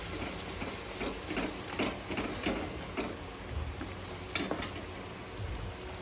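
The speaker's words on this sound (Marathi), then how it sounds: "हे आपलं मिक्सरमधलं भांड्यातलं पाणी आहे वाटणाचं, ते टाकून देते थोडं आणि परत हलवून देते" Ground-masala water from a mixer jar splashes into simmering chicken masala in a pot and gets stirred, with wet sizzling, soft scraping and repeated stirring strokes at close range.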